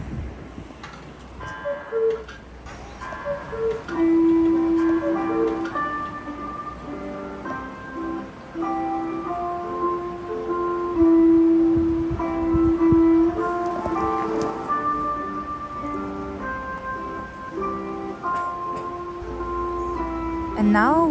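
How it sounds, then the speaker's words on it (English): A coin-operated Black Forest cuckoo clock plays its cuckoo call, a steady run of clear melodic tones and ticking chimes over a murmur of background voices, sounding moderately close. "If I put a 1 euro coin, we can actually see and hear the cuckoo's call."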